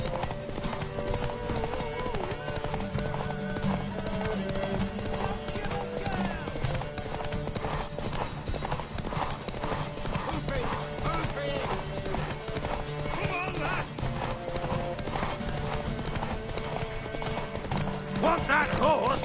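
A horse gallops in the Witcher 3 video game, a steady rapid clip-clop of hooves running under continuous game sound and character voices talking throughout.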